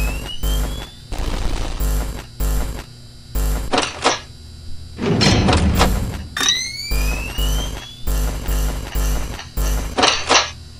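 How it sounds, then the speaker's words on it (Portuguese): Doors slam shut in a Five Nights at Candy's-style horror video game on night five: clunky mechanical bursts, electronic tones and rising whines, with loud slam clusters that repeat among quieter pulsing game sounds. "Fechei a porta da esquerda, agora eu vou fechar a direita."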